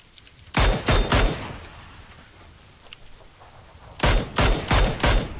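Gunfire shooting out a car's tyres in PUBG, two loud bursts of three or four rapid shots each, separated by a few seconds of faint background ambience.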